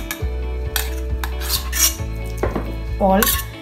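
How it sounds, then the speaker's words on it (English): Soaked fenugreek seeds tipped into a grinder jar, giving a run of close, sharp clinks and taps of seeds and spoon against the jar, with a brief rattling clatter near the end. "So we'll just take this soaked fenugreek seeds in the jar"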